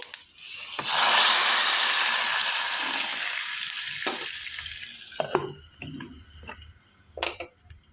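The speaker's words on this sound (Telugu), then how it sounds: "ఈ తాలింపు అనేది ఇందులోకి వేసేసుకోవాలండి" Hot tempering with curry leaves is poured into chicken soup, setting off a loud, sudden sizzle that gradually fades, followed by scattered clinks and stirring knocks of a pot and utensil.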